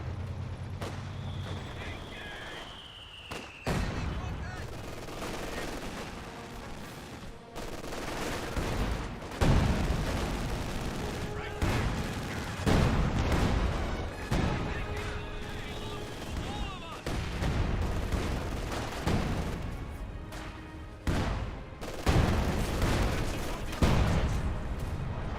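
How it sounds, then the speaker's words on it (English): MG42 machine-gun fire in the Company of Heroes 2 video game, with repeated bursts and scattered battlefield gunfire and explosions in dense, continuous game combat throughout. "MG42 pushing the center of the map"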